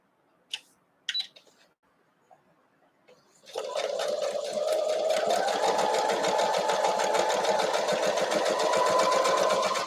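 A sewing machine stitches quilt pieces for an Imperial T block, chain-piecing without cutting threads between them; a few faint clicks come first, then a steady, loud running hum of stitching carries through to the end.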